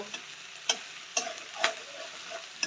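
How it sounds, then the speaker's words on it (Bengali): A soft, steady sizzle of stir-frying, with a spatula scraping and tapping the pan every half second or so. "এবার আমি এটা পেঁয়াজ আর পেঁয়াজ কলিটাও একসাথে ভালো করে নাড়িয়ে ভেজে নেব"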